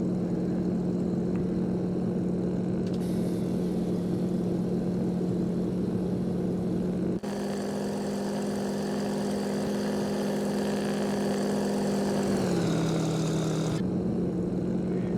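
A propeller plane in the flight simulator X-Plane 12 drones steadily near an airfield for the whole stretch, its engine hum loud and even, with a brief shift in pitch toward the end.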